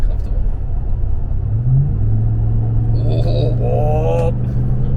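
Lifted Dodge Ram 1500 pickup driving with a steady low engine rumble that swells slightly as it pulls away, with people talking over it partway through.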